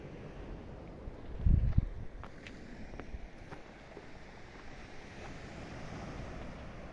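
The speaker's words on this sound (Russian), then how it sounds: "Рядом море, посмотрите." Low, rolling surf and wind noise, steady and fairly soft, with a brief louder rumble near the start.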